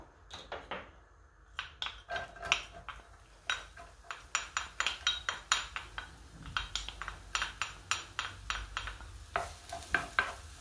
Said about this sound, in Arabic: كنضيف شويه زيت الزيتون، ثم غادي نضيف البصله مشلضه